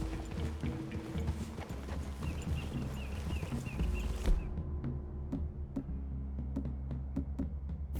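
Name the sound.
horse hooves in Red Dead Redemption 2 video game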